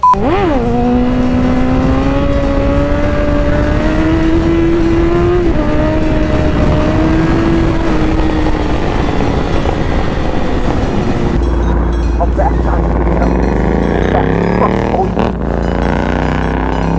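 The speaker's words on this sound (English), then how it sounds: "There's a clean wheelie there." Motorcycle engine revving hard and steady while riding a wheelie on a bumpy road, loud and close with wind roar throughout, the pitch climbing then easing before a rougher, lower stretch near the end.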